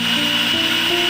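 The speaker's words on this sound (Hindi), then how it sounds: "अब हम इसको स्मूथली इसको ग्राइंड कर लेते हैं बिल्कुल।" A blender grinding an Oreo banana shake with ice cubes, a loud, steady motor whine with shifting pitch as it runs continuously, close up and with no voices.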